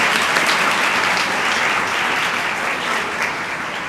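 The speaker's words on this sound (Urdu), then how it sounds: "بھرپور تالیوں میں" A church youth festival audience applauds loudly and continuously, a dense steady wash of clapping that tapers slightly toward the end.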